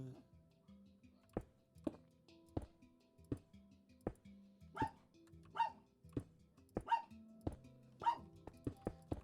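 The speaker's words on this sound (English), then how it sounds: "And they're barking again!" In Minecraft, several faint dog barks repeat in the background among sharp clicks and knocks, with a person speaking intermittently nearby.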